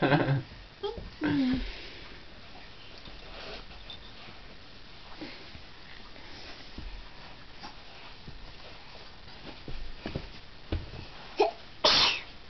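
A young child sneezes in a quiet room, with a sharp sneeze near the start and a couple more bursts near the end, alongside faint sniffs and soft adult talk.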